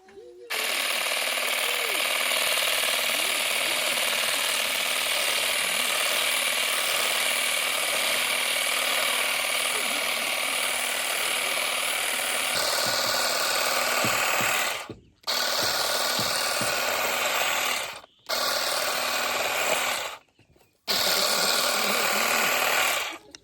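A Procraft hedge trimmer cuts grass outdoors with a loud, steady buzzing rattle of reciprocating blades, running continuously and cutting out briefly a few times near the end.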